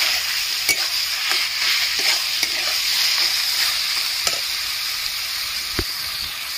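Four chopped green chillies fry in a pan for a bean mash, giving a steady, bright sizzle close by with a few sharp stirring clicks of a utensil against the pan.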